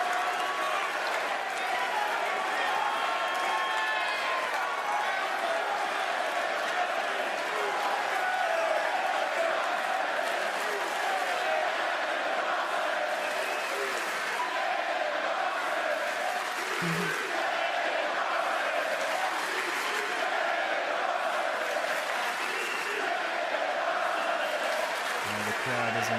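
Dense arena crowd at a live WWE Saturday Night's Main Event wrestling show roars and applauds steadily throughout, a loud unbroken wash of cheering with voices talking over it.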